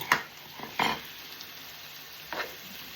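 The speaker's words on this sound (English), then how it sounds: "let all of that simmer down" Salt fish (cod), cabbage, bok choy and sweet peppers simmer in a pan, giving a soft, steady sizzle with a few brief clinks or stirs, nearer and slightly louder at moments, with no talking.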